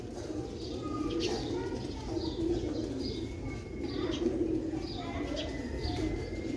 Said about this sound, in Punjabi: ਇਹ ਦੋਸਤੋ ਮੇਰੇ ਅਜ਼ਮਾਏ ਦੇ ਕਬੂਤਰ ਨੇ ਇਹ ਵਾਲੇ